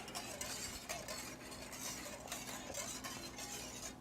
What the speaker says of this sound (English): continue on 1 ladleful at a time until you've mixed everything all together